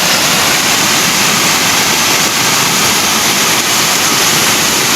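Ba Luang waterfall pours down in a loud, constant broadband rush of falling water, heard up close and unbroken, with no voices.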